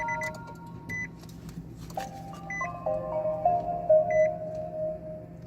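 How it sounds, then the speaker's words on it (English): A Nissan LEAF electric car powering on gives a series of clear electronic startup chimes and beeps, with sustained tones over a low steady hum inside the cabin. No one speaks. "So we're going to turn the car on and see what happens."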